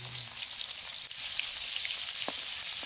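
Crab sizzling in a pan of fish oil in a Sundarbans-style cook, a steady close frying hiss with small crackles and pops throughout.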